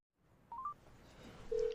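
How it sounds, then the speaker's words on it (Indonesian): A telephone being dialed, a few quick faint keypad tones followed by one longer tone, heard alone against a quiet background. "Ia terus menghubungi Jae-hyo."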